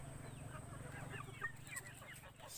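Several chickens cluck and murmur softly in the background, with a steady low hum running underneath throughout.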